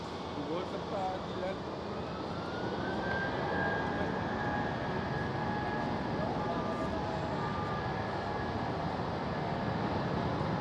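A British Airways jet takes off at Amsterdam Schiphol, its engines a broad, sustained roar that swells and holds loud with a rising whine, while people talk faintly nearby.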